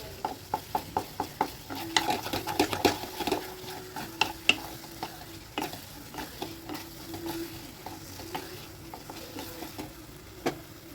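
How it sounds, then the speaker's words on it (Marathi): Besan batter thinned with hot water is stirred in an oiled kadhai, a spoon scraping and tapping the pan in a steady rhythm over a soft sizzle, close and fairly quiet with no talking. "अशा प्रकारे गरम पाणी टाकून व्यवस्थित असं हे मिक्स करत छान हे घट्ट करून घ्यायचं आहे"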